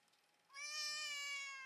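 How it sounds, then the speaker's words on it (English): A small cat gives a single loud, drawn-out meow after a brief quiet moment, close by and alone with no talking. "She's got this really loud meow."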